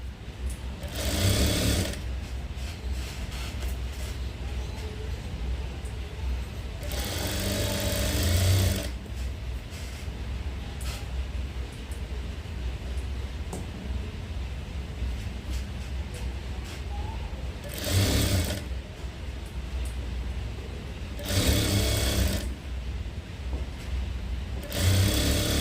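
An electric sewing machine stitches a work blouse in loud, close bursts of rapid mechanical whirring, separated by quieter pauses with a faint background hum.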